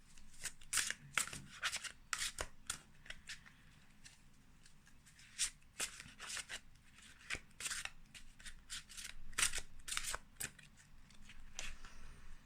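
A deck of cards is shuffled over and over, giving crisp, fluttering riffles and snaps in quick bursts with short gaps between them. The sound is close and fairly quiet, with no voices.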